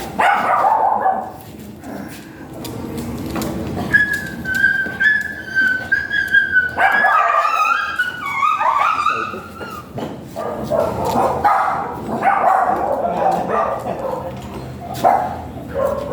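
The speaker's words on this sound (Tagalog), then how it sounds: "golden retriever to pero nangangagat" Golden retriever at a stud service in Binalonan, Pangasinan, giving short yips and barks mixed with whimpering and a whistle-like whine, close by, while people talk around it.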